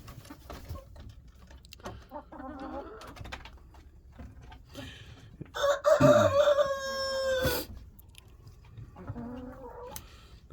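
Backyard chickens cluck softly in short bursts, then a loud rooster crow rings out close by in the middle, followed by more scattered clucking.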